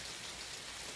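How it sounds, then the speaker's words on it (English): Steady, faint rain falls outdoors at Cloudland Canyon State Park, a soft even hiss of drops with no talking. "the rain,"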